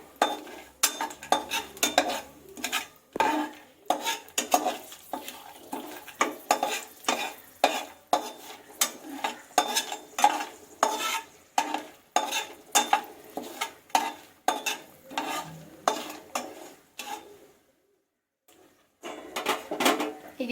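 Whole spices and kasuri methi frying in a pan for mushroom biryani, with a spoon stirring in rapid rhythmic scrapes and clacks over a soft sizzle, then a short pause before stirring resumes.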